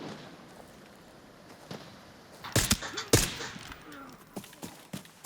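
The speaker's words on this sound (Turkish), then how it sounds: "Evet silah sesleri geliyor." A few sharp gunshots crack in the distance in the video game Arena Breakout Infinite, two louder bursts standing out over a quiet, rustling background.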